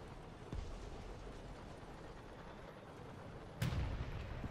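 Artillery fire in the War Thunder video game, two distant booming shots about three seconds apart, the second sharper and louder, over a low steady rumble of background noise.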